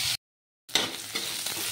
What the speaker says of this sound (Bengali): পেঁয়াজ আর রসুনটাকে ভালো করে ভেজে নেব।